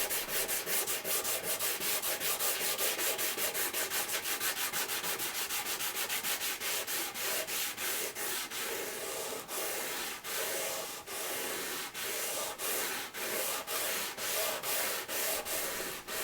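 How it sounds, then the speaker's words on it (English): A radiused cork sanding block rubs back and forth along a violin fingerboard in quick, regular strokes, each pass a soft rasping scrape, close and quiet with no talking. "a radiused cork sanding block is even better"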